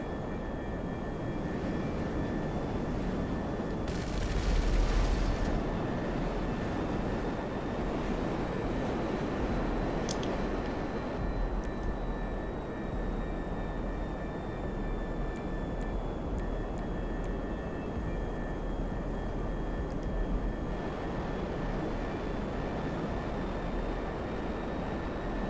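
A jet flies in a blocky multiplayer video game, its engine a steady, loud roar that drones on throughout with no talk over it.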